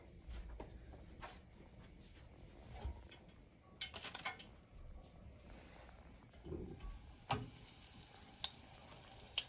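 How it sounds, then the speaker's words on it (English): Frikadel meatballs coated and frying in hot oil over low heat, a steady soft sizzle with occasional utensil clicks and stirring bumps, fairly quiet and continuous throughout. "the oil is also hot, and we are going to fry on low heat"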